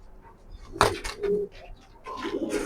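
A pair of red checker racer pigeons coos softly in short, low bursts close by, after a sharp knock or flap; there is no talking.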